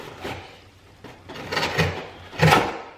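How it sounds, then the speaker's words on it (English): Folding knife slicing along the side of a cardboard box, a few scraping, tearing strokes in uneven bursts, close and moderately loud, the last stroke the strongest. "Definitely rips through the cardboard pretty well, pretty fast and easy"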